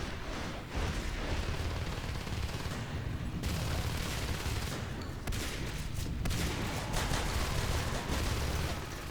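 Gunfire and shotgun blasts in the video game Natural Selection 2 crackle in dense, rapid bursts of sharp shots over a continuous noisy battle backdrop, with no speech.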